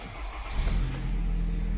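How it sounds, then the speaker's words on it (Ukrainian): A Nissan car engine, under service during a CVT oil change, starts up and settles into a steady, loud idle rumble close by, with no talk. "Заводимо автомобіль"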